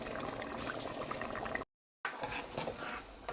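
Rice simmering in broth in a covered pot, a steady close bubbling and soft liquid burble that continues without talk, broken by a short silent gap midway.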